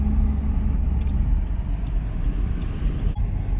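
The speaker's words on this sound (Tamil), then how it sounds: "ரோடெலாம் டிராஃபிக்காக இருக்குது." Car driving through busy city road traffic, with a steady, loud engine and road rumble throughout and faint passing vehicle sounds.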